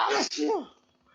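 A single sharp human sneeze bursts out loud and close, followed by a brief voiced after-sound that fades into quiet.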